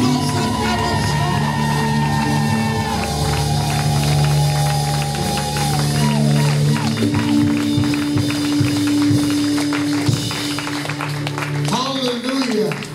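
A church worship crowd cheers and shouts loudly throughout, with music and amplified voices mixed in and bursts of yelling rising toward the end.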